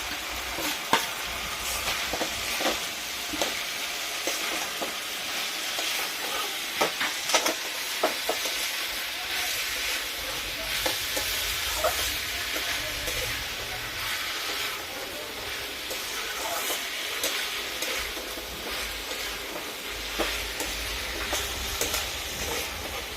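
Chopped banana flower stirred and frying in a pan of cooked-down spiced masala with prawns, a steady sizzle with intermittent scraping and clinks of a spatula against the pot.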